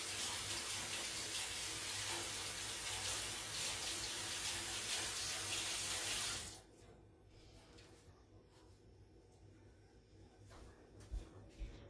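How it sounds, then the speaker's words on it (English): Tap water pours steadily from a faucet as hands sticky with sourdough starter are rinsed, a close, loud splashing rush that cuts off abruptly after about six seconds, leaving quiet room noise with a few small clunks. "Washing my hand again."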